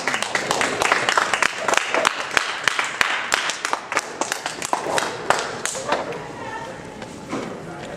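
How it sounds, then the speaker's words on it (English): An open-mic crowd at a university event claps for the next performer, sharp individual claps that are loud and close, then thin out and fade near the end. "Please give him a round of applause."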